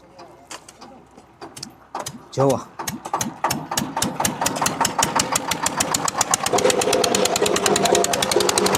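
A fishing boat engine at Daman harbour thumps in a rhythmic chug that quickens and grows louder and denser as it revs. It plays close and loud, with voices talking over it.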